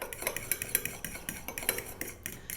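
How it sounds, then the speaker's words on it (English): A utensil beats and mixes yogurt in a bowl, giving quick, rhythmic clinks and scrapes against the bowl, close and fairly quiet, repeating steadily with no talking. "beating and mixing our yogurt to make it nice and smooth"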